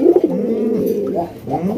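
A big Rasgolla pigeon gives deep, resonant coos up close, a loud rolling call that swells and dips in several phrases.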